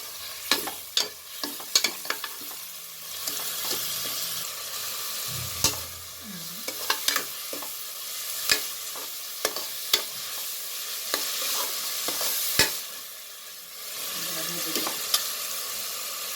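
Onions frying in a pan for a beetroot cabbage rice, stirred with a spoon: a steady sizzle with repeated sharp scrapes and clinks of the spoon against the pan, fairly close, with no talking.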